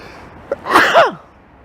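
A single sharp sneeze, close and loud, preceded by a brief intake of breath.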